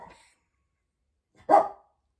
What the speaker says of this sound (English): So that's what he's barking at.